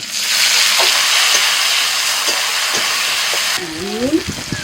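Chopped tomato dropped into hot oil with green chillies and nigella seeds, giving a loud close frying hiss that softens near the end as a voice is briefly heard.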